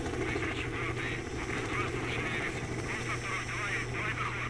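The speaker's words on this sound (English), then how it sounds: "see a helicopter? I hear one now." Military helicopter in S.T.A.L.K.E.R. Shadow of Chernobyl, a steady low rotor drone running continuously at moderate level beneath a busy game soundscape, with talk over it.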